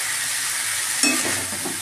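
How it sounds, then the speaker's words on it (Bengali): Cauliflower and potatoes fry in a pan with cumin, chilli and turmeric powders for a curry, a continuous close sizzle, then a stirring scrape that adds a louder, rougher hiss partway through. "এখন আমি কষিয়ে নিচ্ছি"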